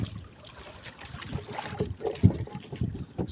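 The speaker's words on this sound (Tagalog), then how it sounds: "Sama pa rin ang panahon, maalon pa rin." Wind buffets the microphone over a rough, choppy sea near the shore during stormy monsoon weather, with low rumbling gusts and wave wash, fairly faint, with no talking.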